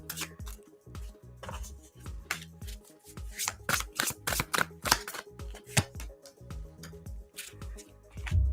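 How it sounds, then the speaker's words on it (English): Tarot cards shuffled by hand during a live reading, a quick run of crisp papery riffles and slaps in uneven bursts, close and fairly loud with no talking over it. "Shuffling around Luna is so hard."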